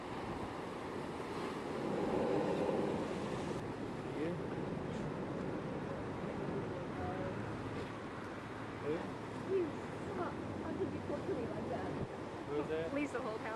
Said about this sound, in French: Ce sont des geysers formés par le flux et le reflux des vagues.